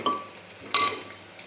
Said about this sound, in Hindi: अब ये प्याज भून रही है।